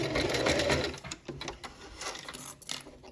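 Sewing machine back stitching a French seam, a quiet rapid mechanical chatter in short bursts with brief pauses between runs.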